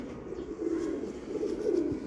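Breeder pigeons cooing up close, soft low throaty coos repeating in short rolling phrases, fairly loud and steady with no talking.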